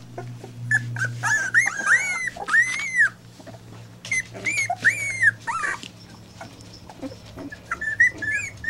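Several puppies whimper and yip in high, rising cries, coming in quick overlapping bursts close by, with brief pauses between.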